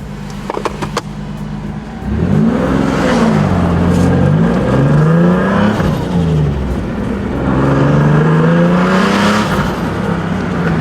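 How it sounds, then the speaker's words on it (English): A car's exhaust roars loudly up close, revving hard twice in rising, throaty surges with a raspy growl and no voices. "I love my valve controlled exhaust"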